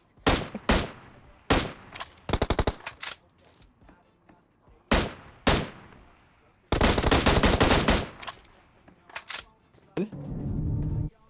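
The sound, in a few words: gunfire from a bot in PUBG Mobile, video game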